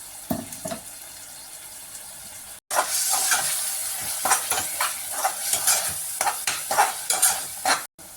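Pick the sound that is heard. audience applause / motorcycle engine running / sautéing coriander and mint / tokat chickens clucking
sautéing coriander and mint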